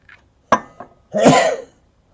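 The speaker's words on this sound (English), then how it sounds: "That's a weak sneeze with one lung." A weak, half-hearted sneeze during a live auction, preceded by a couple of faint sniffs and catches of breath, then a short breathy burst lasting about half a second, close and moderately loud with no talk.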